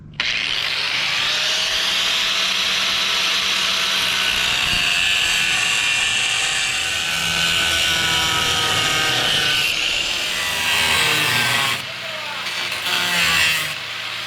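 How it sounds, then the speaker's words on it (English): An angle grinder's cutting wheel slices through a metal plate, giving a loud, continuous high whine that holds steady for most of the cut, then wavers and dips near the end as the wheel finishes. "I'm going to take the cutting wheel on a grinder, and I'm going to cut that marked area out"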